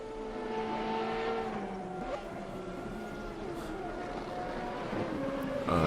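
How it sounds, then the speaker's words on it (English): An FR2 race car engine in the RaceRoom racing game, revving with climbing and falling pitch as gears shift, loud and continuous throughout. "The FR2 sounds amazing. RaceRoom does a really great job with a lot of the sounds"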